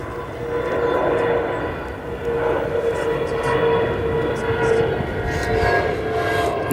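An Embraer E170 jet at Chicago O'Hare airport gives off a steady, loud engine roar that swells and holds throughout, with a faint voice in the background.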